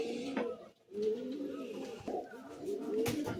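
Pigeons in a loft coo in low, throaty, rolling calls, several overlapping and close by, with a short pause before the cooing resumes steadily.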